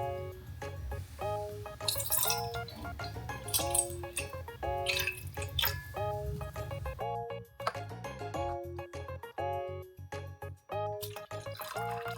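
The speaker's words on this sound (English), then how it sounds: "Let's pour some water." Water poured in a pink mini toy kitchen while making noodles, small trickles and drips splashing into a tiny pot, close and quiet, over soft repeating background music notes.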